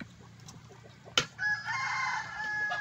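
Farmyard chickens cluck softly before a rooster crows loudly and close by, the crow holding for over a second.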